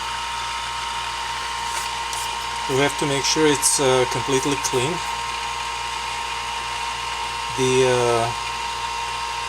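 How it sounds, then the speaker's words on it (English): A high-pitched dental drill whines steadily throughout, drilling holes in a dental plaster model, with a person talking over it in bursts partway through and again near the end. "Let's drill the holes in the model."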